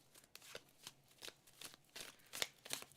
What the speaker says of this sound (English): We're gonna get more cards on the table here.